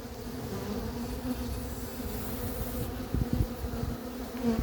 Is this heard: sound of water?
no